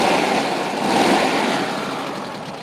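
Air-cooled Volkswagen bus engine, an unmodified original bay with fresh fuel line, idling steadily and close by, a continuous broadband rumble with no voices over it.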